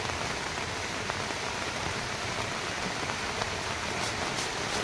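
Steady rain pours down outdoors, a dense, even hiss of drops striking surfaces with scattered nearby splats, continuous and moderately close throughout with no voices.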